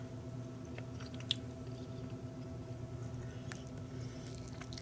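Quiet chewing of a bite of beef steak, with soft wet squishes and small bites close to the ear over a low steady background hum.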